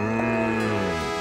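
A cartoon cow gives a single sustained moo, loud and close, its low drawn-out call standing alone with no talk over it.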